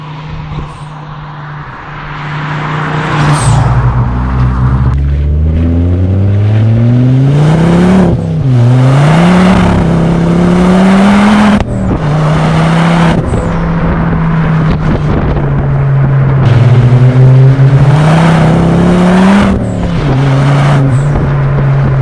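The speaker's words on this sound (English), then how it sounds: "Let's get out and have a nice little drive in it," A Ford Focus ST hot hatchback driving and accelerating, its engine revving up through the gears in rising and falling sweeps with gear-change dips, loud and close from inside the car, without talk.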